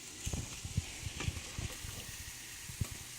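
Eggs sizzle softly in a pan while an omelette cooks, a faint steady frying hiss broken by low, irregular bumps and taps from the pan.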